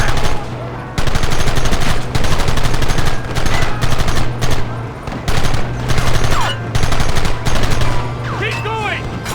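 Rapid, dense bursts of gunfire from a Red Dead Redemption shootout, with repeated fusillades firing in clusters for nine seconds and short pauses between volleys, loud and close.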